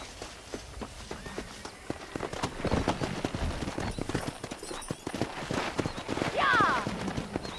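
Rapid hoofbeats of a pack of wild horses clatter under a busy Red Dead Redemption game soundscape, with voices talking over the galloping and a brief whinny near the end.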